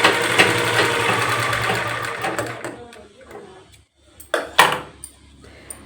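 A sewing machine stitches a blouse with a steady whirring run that slows and stops midway, followed by a few sharp clicks and taps, while someone talks over it.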